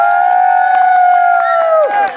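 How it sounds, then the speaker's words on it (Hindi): Quick rhythmic clapping at an Indian wedding ceremony rises from a group of people, the steady claps running under a loud, sustained droning tone that fades near the end. "अब ताली बजाओ जी"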